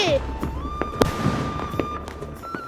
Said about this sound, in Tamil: இப்ப பாருங்க, நான் ராக்கெட் வைக்க போறேன். நான் வச்சிட்டேன். 3 2 1.